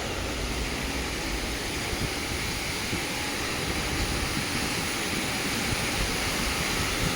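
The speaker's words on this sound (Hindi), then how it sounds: "काफ़ी प्रेशर से गिरा है जिसकी वजह से बहुत प्यारी पानी की आवाज़ आ रही है" Water gushes down under high pressure in a steady, loud, unbroken roar of splashing and rushing, with a windy outdoor hiss mixed in and no talking.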